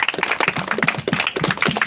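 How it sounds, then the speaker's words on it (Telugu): A group of people clapping their hands during Christmas carol singing in a poor settlement, quick loose claps repeating steadily and close by. "క్లాప్స్ కొడతాం"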